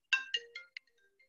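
A mobile phone's ringtone sounds during an online webinar: four short, bright electronic notes in quick succession, fairly close and clear, followed by quiet.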